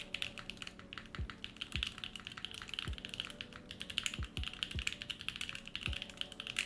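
Rapid mechanical keyboard typing on a Filco Majestouch Stingray fitted with gray switches, crisp clacky keystrokes in a steady flurry with a few deeper thocks from the spacebar, close and alone.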